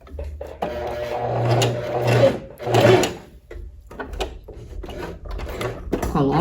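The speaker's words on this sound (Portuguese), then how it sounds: "aí eu dou continuidade à costura" A sewing machine stitching a lined tailored vest, running in short close bursts of rapid whirring and clatter, with brief pauses between runs.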